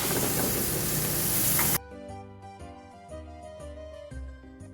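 Hanger steak sizzling in a hot pan with its trimmings gives a dense, loud hiss for nearly two seconds, then cuts abruptly to quiet background music.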